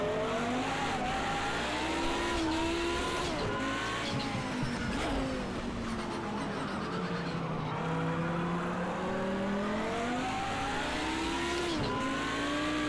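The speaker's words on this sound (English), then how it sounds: "Produces such a sweet engine note, and then the turbo chatter on it as well." Race car engine in Project CARS 2 droning and revving through gear changes, with tire squeal and turbo chatter, a loud continuous onboard sound with rising and falling pitch and no talking.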